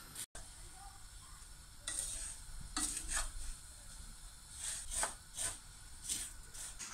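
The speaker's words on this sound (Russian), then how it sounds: "Просто на сухой сковороде отжарить." Dry shreds of kadaif dough rustle and scrape as they are stirred in a dry frying pan, with soft crackling and intermittent bright scraping strokes, close and quiet.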